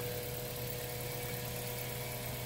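A Mazda 3 with a 1.6L engine, under repair for overheating and coolant loss, idles steadily with a constant low hum and faint vibration, heard alone and fairly quiet.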